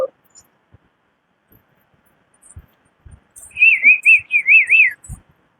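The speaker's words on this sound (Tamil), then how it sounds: "என்னப்பா வீட்டு பக்கத்துல நல்ல குருவி குயில் எல்லாம் பறவைகளா சத்தம் கேக்கு?" A bird calls near a house in a quiet outdoor setting, giving a short burst of quick, warbling trills after a few seconds of near silence broken by faint taps.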